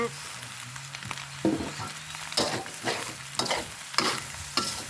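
Pork fried rice with Chinese kale being stir-fried in a pan, a spatula scraping and tossing in repeated strokes over a continuous sizzle, close-up with no talking.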